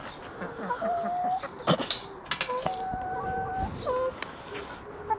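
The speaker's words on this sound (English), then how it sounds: "And then in our garden we have our chickens." Several chickens of different varieties cluck and cackle nearby in a garden, in irregular bursts, with sharp squawks and soft murmuring calls overlapping outdoors.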